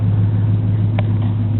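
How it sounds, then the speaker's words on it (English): A Ford F-150 truck's exhaust rumbles at idle, a loud close low drone with a couple of brief sharper blips, with no voices. "That's the exhaust for the F-150."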